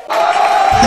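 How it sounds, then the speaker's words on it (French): A studio audience cheers and applauds loudly for a guest, Emma Lohoues, on a French-language talk show, a dense, sustained roar of crowd noise that holds steady throughout. "On va tous faire un tonnerre d'applaudissements, s'il vous plaît, pour Emma Loès."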